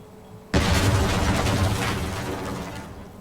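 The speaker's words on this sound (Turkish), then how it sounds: "Bir yer patladı." A sudden loud boom of an explosion in Tom Clancy's Rainbow Six Siege erupts after a short lull, then a broad roaring rumble slowly fades over the next few seconds.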